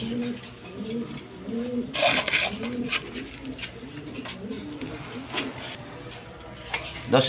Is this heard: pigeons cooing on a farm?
yes